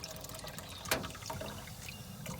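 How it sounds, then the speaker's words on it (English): Beer pours into the water pan of a smoker while pork is being smoked, a short splashing trickle with a sharp splash near the start and gurgling liquid after it. "Pour that in there."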